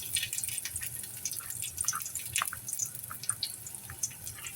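Chopped garlic fries in hot oil in a pan with a quiet, close crackle of scattered small pops and spits over a faint, soft sizzle.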